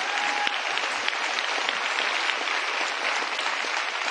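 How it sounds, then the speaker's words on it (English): Steady applause from a large audience at a CNN town hall, dense continuous clapping at an even level for several seconds, with no talk over it. "he deserves a round of applause"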